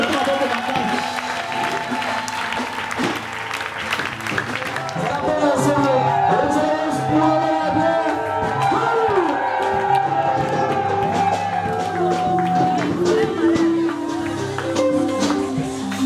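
Church congregation clapping and acclaiming the Lord during a lively service, steady applause mixed with whoops and shouts over music, a continuous dense wash of sound throughout.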